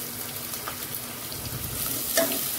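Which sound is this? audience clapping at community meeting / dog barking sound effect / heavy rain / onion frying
onion frying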